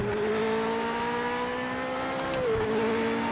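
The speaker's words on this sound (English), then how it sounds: "This is a fucking race car." A Japanese GT500 race car engine in a racing game holds a steady high-pitched drone, close and loud, then its pitch dips briefly as it shifts and settles again.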